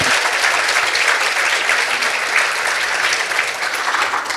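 An audience applauds the panellists at the close of a panel discussion, a steady, dense wash of clapping that holds at full loudness throughout with no voices over it.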